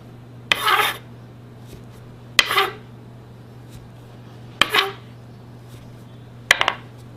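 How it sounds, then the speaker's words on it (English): A biscuit cutter presses through rolled buttermilk biscuit dough about half an inch thick, giving four separate short scraping, clinking cuts spaced a couple of seconds apart against a steady low hum. "Now we're just going to cut the biscuits out."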